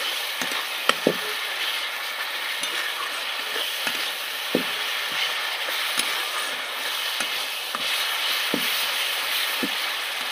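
Spice paste (masala) frying and being stirred in a pan, a steady close sizzle with frequent sharp scrapes and taps of the spoon against the pan.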